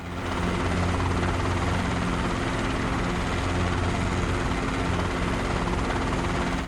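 Simulated helicopter engine and rotor in Microsoft Flight Simulator during an autorotation power recovery, a loud steady drone with a rhythmic low rotor throb that runs continuously and up close, with no voices.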